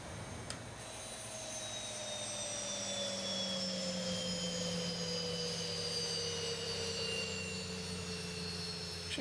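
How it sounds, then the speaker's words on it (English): Jet engines of a Boeing 737 Max in a flight simulator spool down at the gate, a steady broadband roar with whining tones that slowly fall in pitch throughout. "and we can shut down the engines"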